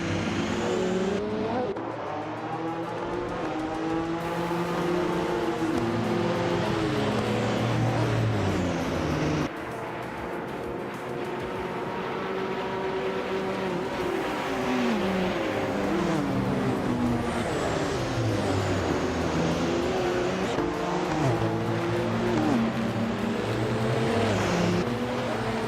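Race cars at Bathurst in a racing video game, including a 2015 Porsche 999 hybrid, their engines whining and shifting pitch continuously as several cars rev and change gears close by, loud and sustained.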